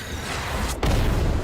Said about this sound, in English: Man, Hoyo's gotten really good at doing explosions.